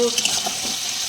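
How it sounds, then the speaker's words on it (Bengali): Garlic and chili paste fries in a pan with a steady, close hiss and sizzle, brief and continuous. "ভালো করে ভেজে নেবো এটা"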